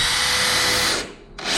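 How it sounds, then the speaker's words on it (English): A power drill bores into a wooden rafter in a continuous, close, loud burst with a brief dip near the end, with no voices. "Start by drilling 2 holes."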